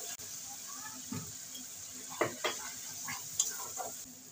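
Ground cumin and coriander with salt are stirred in a hot pan for a Bengali curry, with a soft sizzle and a few quiet scraping strokes of the spoon, faint and close.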